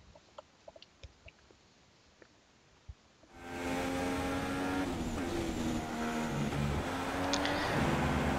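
Haas Formula 1 car engine on the Hockenheim circuit in F1 2016: a few quiet clicks, then a loud, steady high-revving engine drone that holds to the end.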